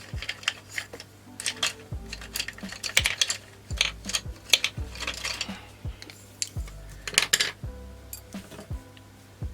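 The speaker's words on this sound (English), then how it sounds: "Then we've got the roll the dice." Dice rolled onto a table in a home savings challenge, a series of sharp clattering knocks and rattles repeating through the clip, close and fairly quiet, with no voices.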